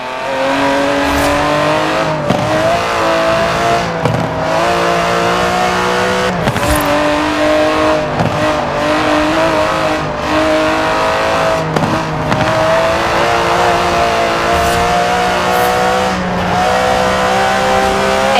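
Aston Martin DB11 with a 5.2-litre twin-turbo V12 in Forza Horizon 4, revving hard and sustained throughout, with repeated rises and drops in pitch as it shifts and accelerates, loud and up close with no talk.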